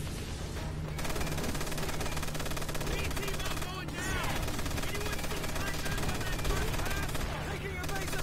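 Machine guns in Call of Duty: World at War fire without a break in dense rattling bursts over a low vehicle drone. The barrage stays loud and close, and voices speak over it.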